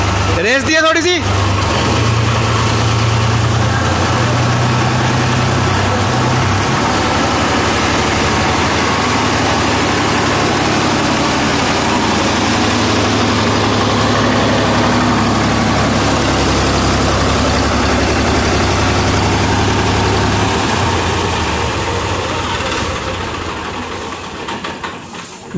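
Steady low rumble of an idling 2005 Mahindra 265DI tractor engine, original engine, running on for a long stretch, with a short clunk at the start and fading slightly at the end.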